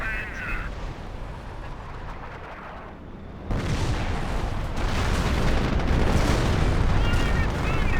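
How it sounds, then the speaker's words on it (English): A Panther tank cannon fires during a Company of Heroes battle, with a sudden loud boom near the midpoint that leaves dense, sustained battle noise rumbling for several seconds afterward; a voice commentates faintly underneath. "Panther fired away, gets damage crit on that one"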